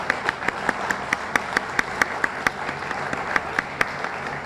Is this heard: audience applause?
yes